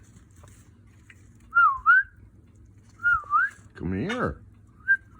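A pet cockatiel whistles rising and falling two-note phrases, repeated a few times up close, with a person speaking briefly between the whistles.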